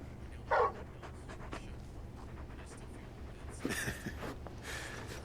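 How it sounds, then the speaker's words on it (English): Torgal, a large dog in Final Fantasy 16, makes a short panting, whimpering burst near the start, then softer snuffles and a second breathy stretch late, faint over a low steady ambient hum. "You're just a big puppy, aren't you? A very big puppy."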